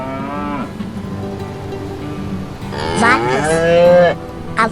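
A cow lowing in two long, loud moos, the first brief and the second a drawn-out rising and falling bellow, close and alone.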